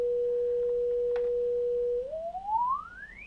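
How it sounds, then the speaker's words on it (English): A clean, steady sine tone from an FM Ogre through-zero FM operator on a modular synthesizer holds one pitch, then glides smoothly upward in a rising sweep, loud and alone. "Here we see the FM Ogre producing a sine wave."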